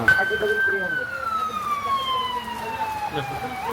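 Ambulance siren on a street in Ras Al Khaimah, a steady falling wail at moderate distance over road traffic rumble, continuous throughout.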